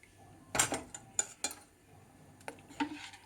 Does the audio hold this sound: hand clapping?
no